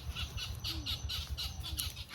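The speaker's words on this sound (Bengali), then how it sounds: "পাখিগুলো কি গন্ডগোল করা করছে যে" Harsh, repeated bird squawks come in quick bursts over a steady low rumble near a home pond and trees, several calls overlapping in a noisy, busy chorus.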